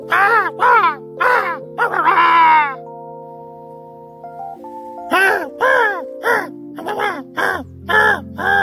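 Cartoonish birds calling in sharp rapid bursts of caw-like squawks, loud and close, with a low held tone and a sustained chord between the bursts.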